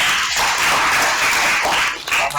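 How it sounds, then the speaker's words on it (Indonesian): A class of students applauding together in a classroom lesson, a steady dense patter of many hands clapping close by for a couple of seconds. "tepuk tangan untuk kita semua."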